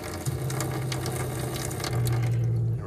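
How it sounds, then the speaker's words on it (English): Water runs from the cold tap of a Jayco 224BH camper trailer's faucet during winterizing with a pump, a steady hiss with a low droning hum that cuts in, continuous and close. "we're going to open the cold water first"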